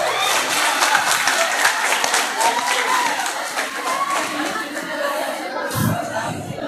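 An audience at a school arts competition in Majene claps in a loud, sustained round of applause that slowly thins out, with crowd chatter and a voice mixed in.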